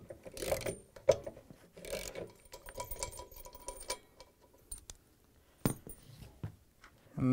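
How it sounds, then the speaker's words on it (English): A screwdriver loosens the bolt on a Samsung washer spider arm, giving intermittent ratcheting clicks and metallic rattles in short, close bursts separated by quiet pauses. "Unscrew the bolt, hold that screwdriver all the time."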